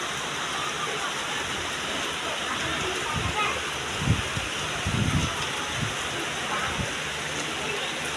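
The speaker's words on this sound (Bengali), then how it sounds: "কি সুন্দরভাবে বৃষ্টি হচ্ছে" Steady morning rain falls outdoors, a dense continuous hiss with a few soft low thumps and splashes breaking through near the middle.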